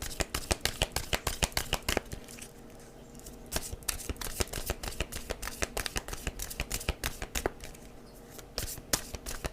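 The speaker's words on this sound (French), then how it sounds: "rajouter par-dessus des cartes du tarot" Tarot cards being shuffled by hand, with dense, rapid rhythmic riffling flicks and slaps, close and crisp, continuing steadily without speech.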